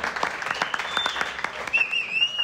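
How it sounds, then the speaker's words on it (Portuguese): Applause for Lúcio at the sign-off of a sports talk show, a short ragged patter of claps with a thin whistle-like tone gliding over it, moderately loud and with no voice on top. "Deixa a salva de palmas pro Lúcio."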